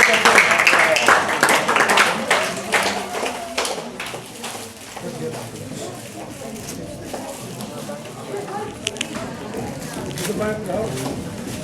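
Applause rings out at a farewell day celebration at Salfia Educational Institute in Russu Narbal, a dense burst of clapping that is strongest at the start and thins out over several seconds while voices carry on beneath it.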